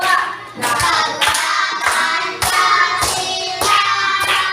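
Children in a classroom clap their hands in sharp, loud bursts, a steady rhythmic pattern of group claps repeating close by with no talk over them.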